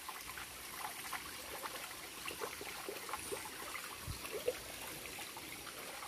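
Rain-swollen stream water flowing steadily at a campsite, a soft continuous trickle and babble heard close by with no talking.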